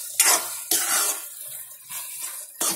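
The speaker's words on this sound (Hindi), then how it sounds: "और ये खोया, अब इसको हम भून लेंगे" Khoya roasting in a pan for carrot halwa, with a few sharp scraping stirs and a soft sizzle underneath, moderately close and without talk.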